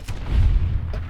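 A grenade launcher round exploding in Fallout: New Vegas, a single deep, heavy boom with a rumbling low tail lasting about a second.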